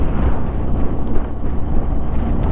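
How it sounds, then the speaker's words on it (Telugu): On a ride from Kargil to Ladakh through snowy mountains, strong wind batters the microphone with a loud, continuous, gusting low roar and no voices. "గాలి ఎక్కువ వస్తున్నాడు."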